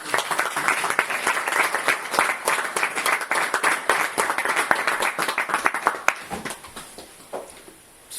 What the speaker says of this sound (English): So clapping is information.